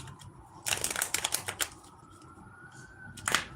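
Tarot cards are shuffled in quick, papery riffling bursts, close and fairly quiet, with a pause and a final short flurry.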